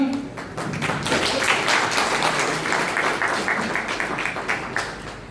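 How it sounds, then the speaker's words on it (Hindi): Enthusiastic audience applause greeting guests arriving on stage at a public event in Udaipur, a dense, steady wash of clapping lasting several seconds with a few sharper taps near the end. "जोरदार तालियों के साथ अभिनंदन।"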